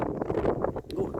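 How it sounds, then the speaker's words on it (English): Strong wind buffets the microphone outdoors in a house yard near the gutters, a continuous low rumbling gust under someone talking. "really windy."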